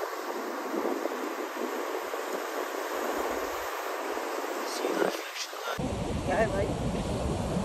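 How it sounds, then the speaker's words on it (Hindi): Sea water rushes up a South Goa beach in a steady hiss of surf and wind, with a sharp shift partway through as the wash changes. "पानी आ गया फिर से।"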